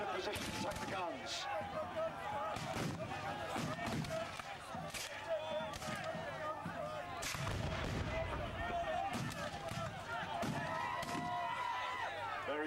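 Cannon and musket fire crack and boom across an American Civil War reenactment battle at Kirby Hall, with repeated loud shots at irregular intervals, some near and some distant, under an announcer's running commentary.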